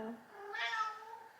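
A single cat meow indoors, one drawn-out close call that fades, with a voice speaking quietly behind it.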